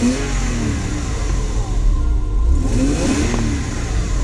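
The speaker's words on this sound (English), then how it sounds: "I'm revving now" An old Porsche Boxster engine revs in a steady, loud, close-up drone, the rise sounding slightly delayed and uneven, with no talking.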